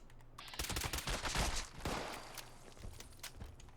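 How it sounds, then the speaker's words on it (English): Quiet, rapid bursts of suppressed weapon fire from Fallout 76, a fast clattering volley of muffled shots followed by a few scattered softer pops and faint footsteps. "To me, it sounds like the GoldenEye suppressed weapon."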